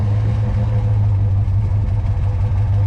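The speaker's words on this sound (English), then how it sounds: "over here you can hear the engine burble" A 1994 Dodge RAM 1500 Laramie SLT pickup idling with a steady, deep engine burble, loud and close, running evenly throughout with no talk.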